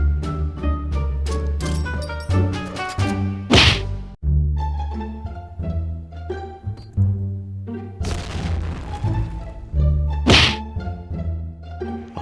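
Grenade throws and explosions in the Point Blank shooter game on the Luxville map sound as loud booms and thwacks with whooshes, layered over continuous game music.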